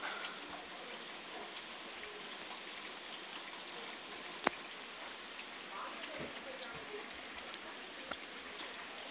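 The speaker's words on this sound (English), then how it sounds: "It's raining" Steady rain patters as a continuous wash of noise, with an occasional louder drip or tap cutting through.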